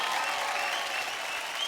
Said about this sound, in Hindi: जोरदार ताली everybody for Syed Mamun and thank